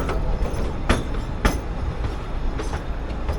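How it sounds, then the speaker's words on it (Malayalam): A narrow gauge heritage passenger train running slowly between Bilimora and Waghai, with a steady loud rumble of wheels and carriages and a few sharp rhythmic clacks over rail joints. "വലിയ സ്പീഡിലൊന്നും അല്ല കേട്ടോ ഈ ട്രെയിൻ പോകുന്നത്"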